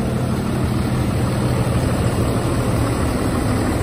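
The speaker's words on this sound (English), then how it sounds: "Powerful 300 horsepower Cummins diesel engine." A 300 horsepower Cummins diesel engine idles in a 2021 Grech EG40 bus, a steady low rumbling drone with a vibrating throb, loud and even throughout with no talk.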